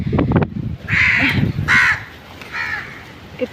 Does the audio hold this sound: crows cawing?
yes